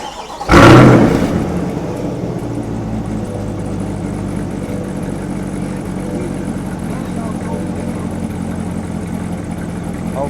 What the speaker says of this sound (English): Okay, I got a good idle here, got good oil pressure.